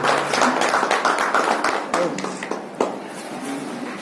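Audience applause welcoming a guest at a school inauguration ceremony in Bhusawal, dense clapping over a steady crowd under an ongoing voice.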